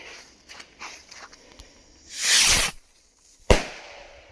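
A Piromax Aurora firework rocket fires outdoors: faint crackles, then a loud whooshing launch burst lasting under a second, a brief quiet gap, and a sharp single explosion.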